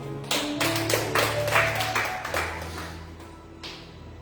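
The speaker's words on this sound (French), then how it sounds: "Applaudissez le Seigneur" A church congregation claps along in a dense, steady patter, with sustained musical tones running underneath and fading slightly toward the end.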